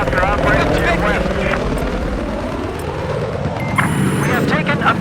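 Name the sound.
enemy helicopter flying in video game Battlefield 4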